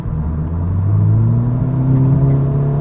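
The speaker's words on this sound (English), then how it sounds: "Here we go, 6th gear. I want to step on it a little bit and see if that downshift is harsh or not." A car accelerating in sixth gear during a downshift test makes a loud, close engine rumble and whir that climbs steadily in pitch with no break.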